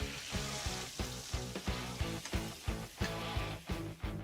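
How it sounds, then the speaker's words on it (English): Sauce with ketchup, garlic, seasoned salt, pepper, granulated onion and garlic and sugar sizzles loudly in a pan at a Jamaican restaurant in Nashville, with steady rhythmic scraping strokes of stirring about twice per second, close up and alone. "Stir this all around."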